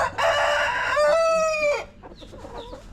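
A rooster crows loudly nearby, a long drawn-out call, while hens cluck softly in the background.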